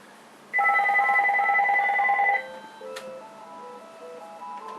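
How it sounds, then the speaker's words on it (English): A phone's ringtone cuts in indoors during Christmas tree trimming, a loud steady two-tone electronic ring lasting about two seconds, followed by softer, quieter melodic beeps as the call carries on. "It looks like my mom's calling."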